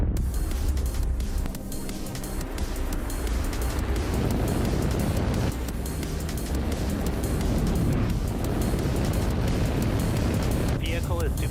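A SpaceX Falcon 9 rocket lifting off on a Starlink mission, a loud continuous broadband roar with deep rumbling low end sustained throughout, with a voice talking over it.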